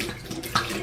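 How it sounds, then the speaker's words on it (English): Water swishing and running while a Scotch whisky bottle with a broken cork is rinsed out, a short close splashing burst with a brief gurgle partway through. "Now one more little rinse."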